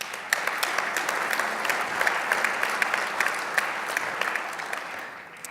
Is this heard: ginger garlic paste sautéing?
no